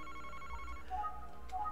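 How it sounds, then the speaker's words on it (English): A telephone ringing in the video game Famicom Detective Club, a short electronic ringing tone that repeats quickly over a low background hum. "Oh, hey, look, it's a phone."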